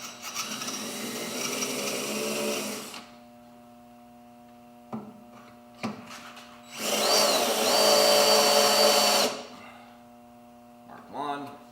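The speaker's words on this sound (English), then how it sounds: "I'm going to drill the holes out." A power drill bores holes through a differential bushing bracket from an ATQ bushing kit, running in two long loud bursts of about three seconds each, with short clicks and a brief spurt between them over a steady background hum.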